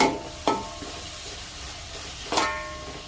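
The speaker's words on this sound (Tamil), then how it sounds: "ஒரு அஞ்சு நிமிஷம் தக்காளி வதங்கணும்" Tomatoes sautéing with ginger-garlic paste for a prawn gravy: a soft steady sizzle with two sharp spoon-against-pan scrapes, one early and one near the end, no voices.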